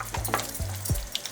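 A spoon stirs tomato paste with goat meat in a pot for a Ghanaian light soup, making a few scraping strokes against the pot over a soft sizzle, close up and without talking.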